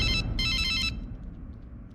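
A telephone rings in an animated Plotagon scene, two quick electronic ring bursts, the second longer, then fading into a low background hum.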